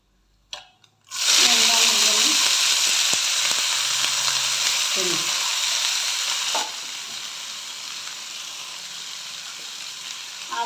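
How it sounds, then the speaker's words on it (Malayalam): Curry leaves and green chillies hit hot oil in a pan for bitter gourd thoran, setting off a sudden loud sizzle that stays strong and steady, then drops a little in level, with occasional stirring clinks. "അതിലേക്ക് കുറച്ച് കറിവേപ്പിലയും പച്ചമുളകും കൂടി ഇടുന്നു."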